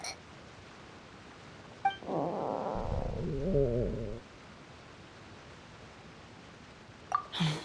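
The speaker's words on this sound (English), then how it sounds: "That would be my stomach growling." A hungry stomach growls once, a low gurgling rumble lasting about two seconds that bends and wavers in pitch, against a quiet background.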